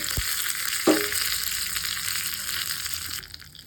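Curry leaves drop into hot oil with mustard seeds for a sweet corn kosambari tempering, a sharp burst of crackle followed by a steady close sizzle that fades toward the end, no talking.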